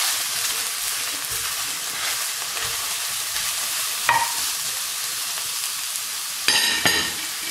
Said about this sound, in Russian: Добавляем сюда грибы. И пусть они тоже у нас потушится.